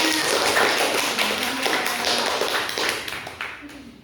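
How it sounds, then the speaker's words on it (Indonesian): Classroom of students clapping for a presenting group, a dense patter of many small hands that holds steady and then thins out toward the end. "Beri tepuk tangan untuk temannya."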